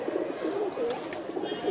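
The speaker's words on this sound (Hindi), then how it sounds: "अब इसके साथ जो कबूतर है वो भी मैं आपको दिखाता हूँ" A homing pigeon gives soft, low cooing calls, a few rolling, throaty notes close by, with faint flutters and background noise around it.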